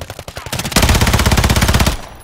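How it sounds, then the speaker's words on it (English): Sustained automatic gunfire in a shooter video game, opening with a few separate shots and then a fast, loud, evenly spaced burst that ends abruptly. "Too much shooting"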